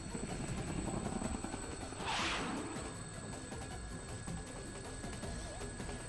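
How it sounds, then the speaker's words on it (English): Helicopter rotor noise from the video game Persona 4 Arena Ultimax, a steady loud drone with a brief whooshing surge as the aircraft banks sharply, no talking. "The helicopter makes a sharp turn and we're all thrown to the side."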